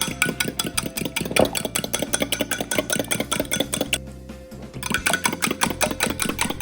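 A fork beats eggs with salt and pepper in a bowl, giving a rapid, steady rhythmic clatter that pauses briefly and then resumes.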